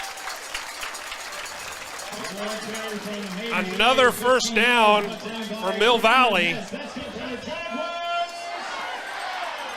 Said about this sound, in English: A lot of excitement here tonight in the crowd.